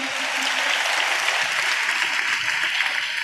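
A church congregation claps together in praise, a loud, steady roar of many hands filling the hall without a break.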